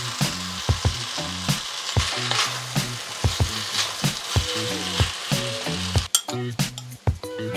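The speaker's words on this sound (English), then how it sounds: "Finally, I'll add all the tofu in here. Just give it a good mix." Tofu is stir-fried in a hot pan: a bright continuous sizzle is broken by regular scraping and clacking strokes of a spatula tossing the pieces, close up, and no one speaks.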